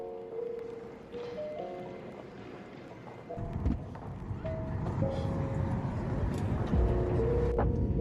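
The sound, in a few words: car driving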